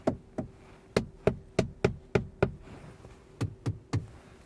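A small hammer knocks on the interior trim of an electric family SUV. About a dozen crisp, hollow-sounding taps come in a quick, even series, then stop briefly before three more taps follow. The sound is close and fairly quiet.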